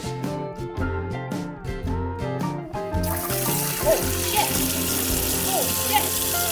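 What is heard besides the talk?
water running from a leaking, broken sink faucet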